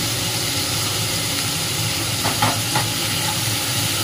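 Chicken pieces coated with ginger-garlic paste being stirred in a frying pan for dry chilli chicken, giving a dense continuous hiss and sizzle with a few faint spatula scrapes, close up and without speech.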